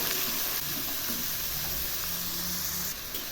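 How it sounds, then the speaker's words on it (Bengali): Pumpkin greens and vegetables frying in oil with salt and turmeric hiss in a dense, continuous sizzle, close and even throughout, with no voices. "এবার আমি এই সবজিগুলো খুব ভালো করে ভেজে নেব"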